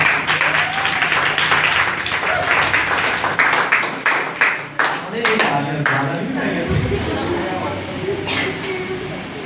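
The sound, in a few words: church congregation applauding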